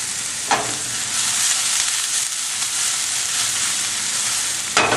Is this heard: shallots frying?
yes